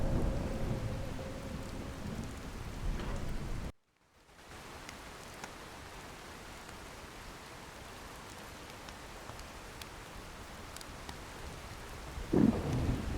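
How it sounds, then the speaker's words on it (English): Steady heavy rain with rumbling thunder in a Skyrim thunderstorm in the Reach. The wash of rain cuts out briefly, then carries on, and a louder crack of thunder comes near the end. "Thunderstorms in the Reach."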